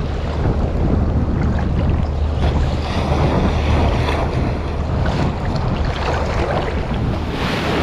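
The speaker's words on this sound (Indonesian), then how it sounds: "ini kondisi lautnya udah gila ini. Airnya udah tinggi, terus ombaknya udah ngapi-ngapi, nggak karuan ini" Rough sea with high surging waves and strong wind at a shore fishing spot, a continuous loud roar of surf and gusting wind buffeting the microphone, with no talk.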